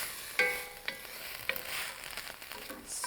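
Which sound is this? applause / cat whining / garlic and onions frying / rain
garlic and onions frying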